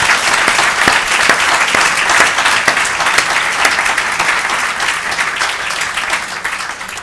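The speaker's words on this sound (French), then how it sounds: "Donc je vous demande vraiment un tonnerre d'applaudissements pour Valérie." An audience at a patient conference bursts into loud, sustained applause, dense steady clapping from a crowd that continues without speech for several seconds.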